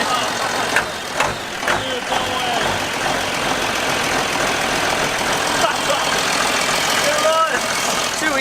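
A Ford F250 fitted with a farm-grown 1970s tractor diesel engine runs with a rough, steady clatter close by, with a few sharp knocks and bangs over the top and voices talking at the start.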